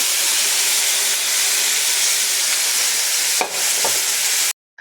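Beef liver roast masala fries in a pan, a loud, steady sizzling hiss with a brief stirring scrape near the end before the sound cuts off abruptly.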